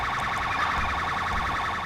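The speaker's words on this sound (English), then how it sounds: "I'm going to go and turn my sirens off" A wailing police car siren in the video game GTA V cycles steadily up and down, loud and continuous, with no voices over it.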